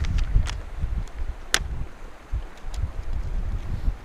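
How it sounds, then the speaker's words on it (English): Strong wind blows outdoors, gusting and buffeting the microphone with low rumbling, plus occasional rustles and light clicks, loud and uneven for the whole stretch. "And it is very windy out here today."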